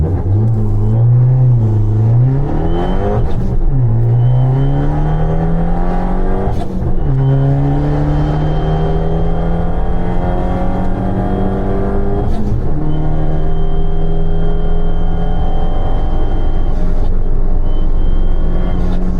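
A Fiat 500 Abarth engine with an aftermarket downpipe drones steadily at high revs, a loud constant hum with slight pitch shifts as the throttle changes, heard from inside the cabin.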